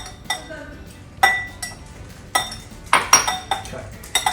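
Chicken Caesar lettuce wrap filling with almonds, parmesan and tomatoes being mixed in a bowl, giving several sharp clinks and scrapes of utensils against dishware in irregular bursts, close up with no talking.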